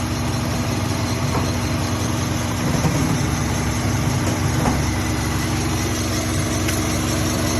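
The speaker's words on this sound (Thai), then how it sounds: "เครื่องยนต์ เดินนิ่งๆนะครับ แบบนี้เลยนะครับ" A used Nissan Almera 1.2 engine idles smoothly and steadily, a constant low rumble with no revving or change in pitch, close by.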